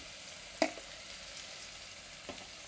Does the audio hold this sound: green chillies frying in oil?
yes